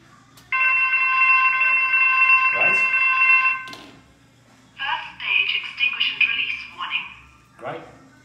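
A Kentec Sigma A XT fire alarm panel in stage one alarm, triggered by a heat detector: a steady electronic tone with stacked harmonics for about three seconds, then a pulsing, warbling alarm in short bursts, loud and close.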